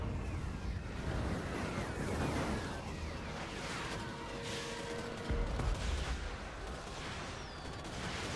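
Artillery fire rumbles through a Warhammer video game battle, with repeated booming blasts and crackling gunfire layered into a dense, continuous barrage of varying intensity, no voices over it.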